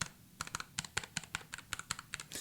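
Typing on a Satechi SM1 75% mechanical keyboard, roughly sixteen close, crisp key clicks in an uneven quick rhythm against a quiet background.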